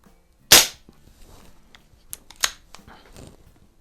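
A CO2 air pistol, a Crosman 2240 or a Webley Nemesis, fires one sharp, close crack, followed by a few fainter clicks and mechanical snaps as the gun is handled.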